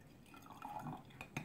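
Water pours from a glass measuring cup into another container for a sugar saturation experiment, a faint trickle with soft drips and a small glassy clink near the end.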